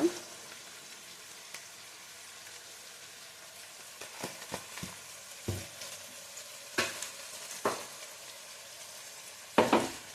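Eggplant frying in a pan with turmeric, a steady low sizzle with occasional louder stirring scrapes and clinks, close by and with no talking.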